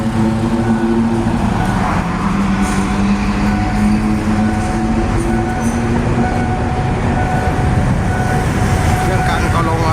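A crude oil tank freight train, express 633 from Mae Nam to Bueng Phra, rumbles steadily and loudly past the Makkasan railway level crossing in Bangkok, with traffic noise and voices beneath.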